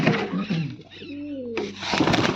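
A pigeon gives a brief, soft throaty coo between louder bursts of nearby noise.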